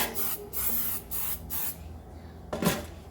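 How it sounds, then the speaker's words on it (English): Oil spray hisses in a series of short bursts onto an air fryer basket, about five quick sprays with gaps between them, close and fairly quiet. "Just a little spray around everywhere that your meat is going to touch."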